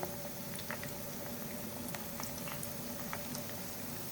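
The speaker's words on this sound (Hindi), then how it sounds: "आलू के पकोड़े मीडियम फ्लेम पर फ्राई हो रहे हैं" Potato fritters coated in gram flour batter fry on medium flame, a soft, constant bubbling hiss of oil with faint scattered pops, heard alone at low level.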